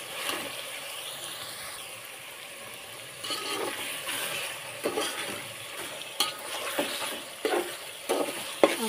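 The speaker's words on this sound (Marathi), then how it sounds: "त्याच्यामध्ये तेल गरम झाले आणि कांदा टाकून घेतले." Onions frying in hot oil in a pot for biryani on a home stove, a steady soft sizzle with intermittent scraping clicks of a spoon turning them, growing busier toward the end; no speech.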